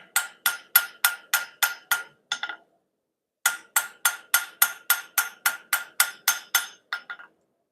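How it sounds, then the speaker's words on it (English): Metal flattened with a hammer while making a bottle opener: two runs of sharp, evenly spaced ringing blows, about eight then twelve strikes, the last few quick and lighter, close and loud against silence. "I'm going to do is the hammer and actually flatten some of this out."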